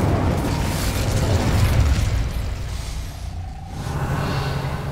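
A fire spell bursts in Hogwarts Legacy, a broad roaring blast that swells for about two seconds near the start, then fades into a lower rumbling wash with a brief whoosh trailing off.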